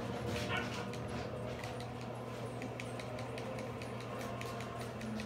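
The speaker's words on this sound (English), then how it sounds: "This is a very small dog." Small dog in the Grand Theft Auto V video game giving short yips, whimpers and barks, several sharp bursts spread across the clip against steady game background noise.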